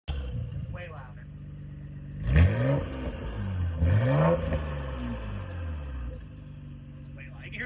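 A straight-piped Nissan R34 GTR V-Spec revs twice, sharp rising and falling bursts over a rumbling idle with turbo whine, loud and close, and people talk over it.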